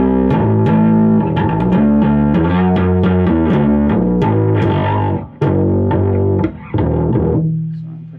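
Electric guitar played through the lead channel of a Fender 75 tube amp, a run of distorted, sustained notes and chords with reverb, loud and close, briefly cut twice before ringing out.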